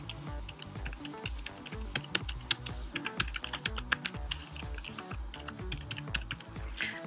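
Brisk, continuous typing on a computer keyboard as a meeting title is entered, with close, crisp key clicks in a rapid uneven rhythm and no speech.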